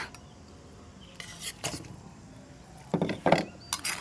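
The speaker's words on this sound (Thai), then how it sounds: "เอาไก่ใส่หม้อนะคะ" Chicken pieces go into a cooking pot for an Isan pickled bamboo shoot curry, heard as a few clanking metallic knocks and clatters spaced over several seconds, close and moderately loud with no talk.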